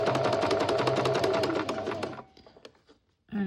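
Sewing machine running a rapid, steady stitch while sewing piping cord along the edge of a quilt, close and clear for about two seconds before stopping, followed by quiet handling and a brief rustle.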